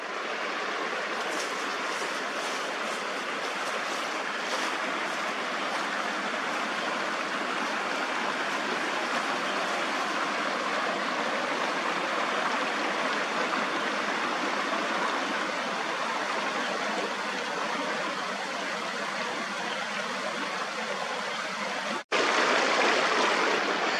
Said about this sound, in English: I hope you guys can hear me with this creek